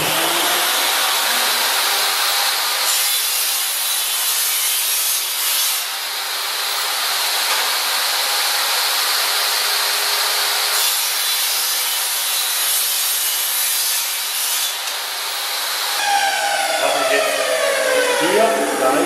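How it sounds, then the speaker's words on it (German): Saw cutting wood from used wine crates, a loud continuous rasping stroke that runs steadily with brief pauses, ending in rougher, choppier cutting. "Und jetzt schneide ich aus diesem Holz noch"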